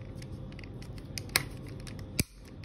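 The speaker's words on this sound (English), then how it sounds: "as soon as you hear this click sound, this means that the torque level 3, which we had pre-calibrated, is reached" A Torqit torque screwdriver tightening a screw gives two sharp, close mechanical clicks, the second louder, as it reaches its preset torque level 3 against a faint rustling background.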